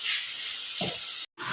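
Green beans with crushed dried red chili fry in a pan with a close, steady hiss that cuts out abruptly near the end, followed by a brief return of sizzle.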